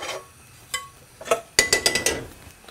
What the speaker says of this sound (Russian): А сюда я ставлю сковородку.